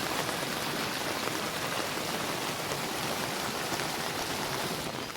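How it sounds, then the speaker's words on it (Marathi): Flooded Konkan river water rushes past during torrential monsoon rain, a steady loud broadband roar with no pauses. "आमच्या नदीला आलेला आहे हौर हे बघा कसला पाणी जातोय बघा"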